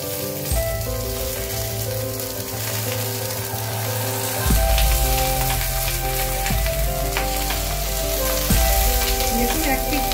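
Vetki fish paturi frying in a covered pan, giving a steady dense sizzle with a continuous low hum and a few soft knocks, fairly loud and unbroken throughout.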